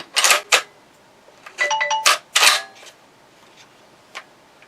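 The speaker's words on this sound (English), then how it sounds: "Who can it be texting on my phone?" A phone's text message notification sounds as a quick run of bright, tonal chime notes, set among several sharp clicks, close and fairly loud.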